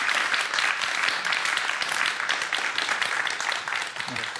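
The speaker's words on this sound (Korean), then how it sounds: "교수님께 큰 박수 부탁드리겠습니다" Audience applause for a particle physics professor after a lecture on quarks, steady dense clapping from a large crowd filling the whole stretch, loud and continuous with no talk.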